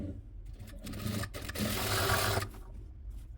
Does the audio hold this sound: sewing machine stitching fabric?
yes